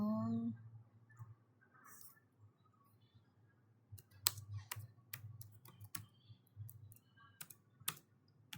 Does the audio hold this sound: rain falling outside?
no